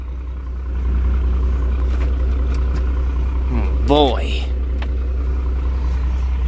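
Pickup truck with a broken fifth gear idling as it warms up, a steady low engine rumble running throughout, with a man's brief exclaimed word over it.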